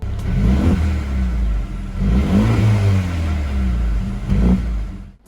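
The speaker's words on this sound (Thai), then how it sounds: "เสียงท่อ ในโหมด Sport Plus จะมีการปล่อยเสียงท่อผ่านลำโพง" Mercedes-AMG CLA 35 Coupe in Sport Plus mode, its engine and exhaust note partly piped through the speakers, revving loudly and steadily for about five seconds with rising and falling pitch and a final burst near the end, no talk.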